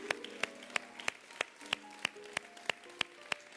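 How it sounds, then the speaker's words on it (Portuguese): A church congregation claps in a steady, even beat, sharp single claps roughly three per second over faint sustained keyboard notes, fairly quiet and with no talking. "Vamos aplaudir a Ele,"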